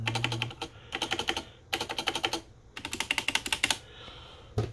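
Rapid bursts of clacky typing on a Keychron K8 TKL mechanical keyboard, close and crisp, coming in several quick runs separated by short pauses.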